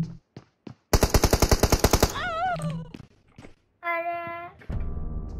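Rapid automatic gunfire from the video game PUBG, a loud burst of evenly spaced shots followed by a few scattered single shots, with brief game sounds and a tone in between and no talk.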